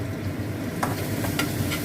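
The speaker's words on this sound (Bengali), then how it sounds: "নিয়ে এসে এবার আমি এই মশলাটা এর মধ্যে দিয়ে দেবো।" Fried spice paste tipped into a hot pot of sabudana khichuri, giving a steady soft sizzle with a few brief scraping clinks of a spoon against the pot.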